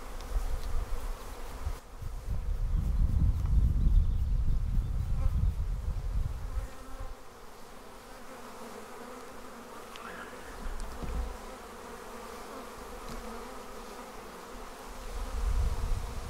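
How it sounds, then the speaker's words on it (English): A dense, steady buzzing of a honeybee swarm in a bag, loud and close at first, then softer and muffled, swelling again near the end. "There they are, honeybees in a bag."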